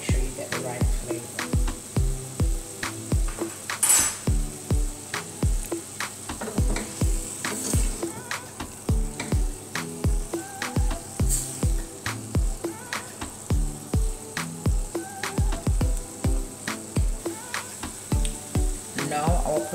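Vegetables and potato cooking in soy sauce in a pan, with a continuous close sizzle broken by a regular rhythm of scraping stirs that repeats steadily throughout.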